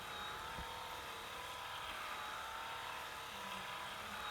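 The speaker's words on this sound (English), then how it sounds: "I'll stop talking for a second so you can hear the sound." An Invospa kneading shiatsu massager running on its own, a steady low motor hum with a faint whirring drone, constant and quiet with no speech.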